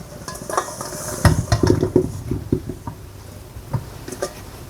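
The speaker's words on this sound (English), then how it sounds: "The first thing I do is I wash these. I just put them in a colander." Loquats being handled and rinsed in a colander at a kitchen setting: clattering knocks and rattles of fruit against the colander, with a brief burst of louder clunks in the middle, then scattered lighter taps.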